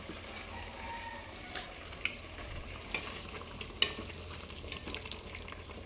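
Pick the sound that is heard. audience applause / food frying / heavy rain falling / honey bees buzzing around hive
food frying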